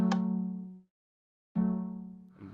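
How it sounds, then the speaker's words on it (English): Two long electronic alarm tones in a Five Nights at Freddy's 2 Minecraft minigame, strong steady pitch, each under a second with a short gap of silence between them, loud and close. "you can hear the alarm going off"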